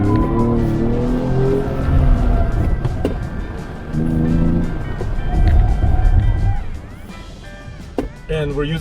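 A 2025 Ford Explorer pushed hard around an autocross course, its engine straining and tires working, with a loud, continuous roar that swells and eases between corners while someone talks over it.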